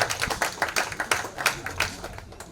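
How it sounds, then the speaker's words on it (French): Audience clapping at an anniversary twinning event during an excursion, a small group's uneven, rhythmic handclaps, close and fairly loud, lasting a couple of seconds without talk. "vous aurez applaudissements également pour Madame Sophie."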